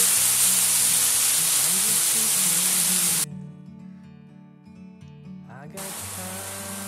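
Shallots sizzle and hiss steadily in a hot pan, loud and close, with the frying cutting out for a few seconds midway and then resuming.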